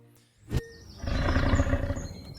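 A breathy roar used as a sound effect sweeps in after a short sharp hit, a big-cat-like growl that swells loudly and rumbles on for over a second with airy texture.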